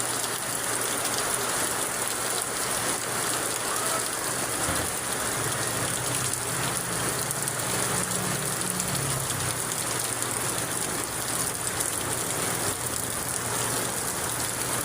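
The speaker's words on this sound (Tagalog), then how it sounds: "lakas ng ulan." Heavy rain pours down in a dense, constant hiss that washes over surfaces for the whole stretch, with a low hum running underneath.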